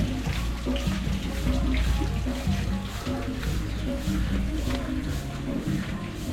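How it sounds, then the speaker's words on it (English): A small indoor waterfall runs in a restaurant office in Laos, a steady close splashing and trickling rush that carries on without a break beneath faint background voices. "And he's got the waterfall happening."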